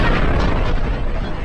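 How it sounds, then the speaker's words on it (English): A supernova explosion sound effect: a dense, rumbling low boom that holds steady and loud for about a second and a half with no voices. "it collapses, triggering a supernova explosion"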